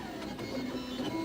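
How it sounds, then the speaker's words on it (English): A 3D printer extruding corn-based plastic layer by layer runs with a steady mechanical hum and faint whirring stepper tones throughout, continuous and moderately close, with no talking. "the 3D printer seen here prints objects layer by layer and uses a corn-based plastic"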